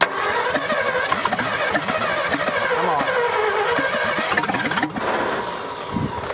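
A 1965 Ford F100 pickup, long buried and abandoned, cranks steadily as its engine tries to catch. The churning is dense and continuous, loud and close, with a brief change near the end.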